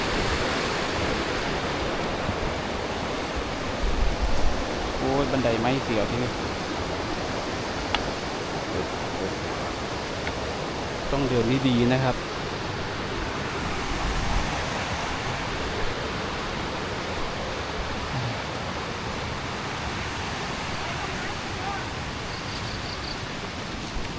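Tad Maleut waterfall in Laos, rushing as a steady broadband roar that fills the whole clip, with someone speaking briefly over it.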